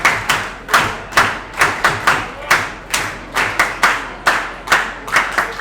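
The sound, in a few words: crowd clapping at a baseball game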